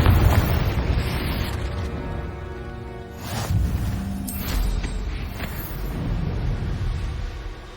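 Confringo blasting-spell explosions in Hogwarts Legacy, a series of heavy booms and rumbling bursts, with sharper crackling hits near the middle, layered over a steady low game-world rumble.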